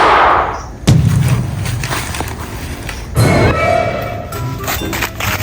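Two sharp, loud bangs about two seconds apart ring out over a busy, noisy background.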